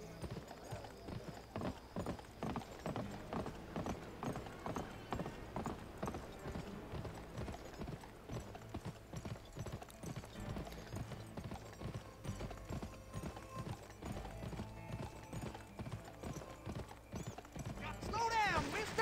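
A horse trots in the Western shooter game Gun, its hooves clip-clopping in a quick, steady rhythm throughout, close and continuous, with a brief louder flourish at the end.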